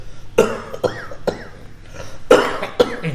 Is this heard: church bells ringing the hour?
no